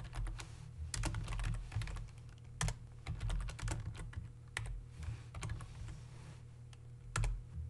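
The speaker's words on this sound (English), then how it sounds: "if you want to just list out your directory options, you can just type in dir" Keys clatter on a computer keyboard as a command is typed at the Windows command prompt, with irregular bursts of close, crisp clicks over a low steady hum and no voices.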